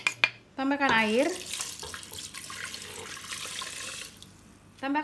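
Water pours steadily from a tap into a pot for several seconds, with a brief voice and some clatter at the start and end.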